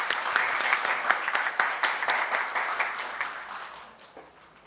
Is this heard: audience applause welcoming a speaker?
yes